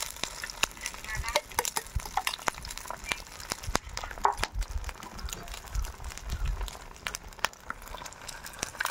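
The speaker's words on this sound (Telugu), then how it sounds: "ఆయిల్ వేడెక్కింది. అల్లము, చిన్నుల్లిపాయ పేస్ట్ వేసుకుని ఫ్రై చేసుకున్నాం." Ginger and shallot paste frying in hot oil for a village-style chicken pickle, giving a steady close sizzle with frequent sharp crackles and pops and some soft stirring scrapes.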